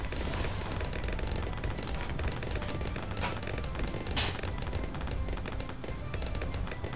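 Bomb tower in Bloons TD 6 blasting balloons: a loud, dense, continuous barrage of overlapping explosive pops and bursts, with a few brighter cracks standing out, no talking.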